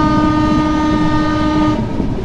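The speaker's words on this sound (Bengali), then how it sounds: "এই যে আমাদের ট্রেন কিন্তু ওই যে পাক দিচ্ছে" The Banalata Express passenger train runs and curves through a turn near a bypass junction, giving a loud, sustained tonal horn-like drone over rolling rail noise that fades slightly at the end.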